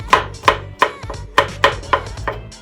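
A knife chops garlic into a fine mince on a cutting board, about nine sharp, close knocks in an uneven quick rhythm.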